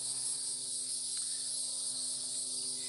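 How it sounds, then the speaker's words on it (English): Insects chirp steadily and loudly throughout, a constant high-pitched buzzing drone at an outdoor spot where a gopher tortoise lives, with no talking. "The bugs are really noisy today, as I'm sure you can hear in the background."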